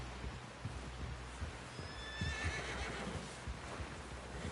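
A horse in Red Dead Redemption 2 gives a quavering whinny midway, over quiet clip-clop hooves and a low rumbling background, faint and somewhat distant.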